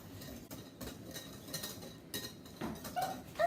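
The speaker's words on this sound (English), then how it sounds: "we whisk that together until the dry ingredients mix into the cream" Dry ingredients whisked into cream for a dark chocolate pie, with quiet, irregular scraping and clinking of a whisk against a bowl in a faint, close, steady rhythm and no talking.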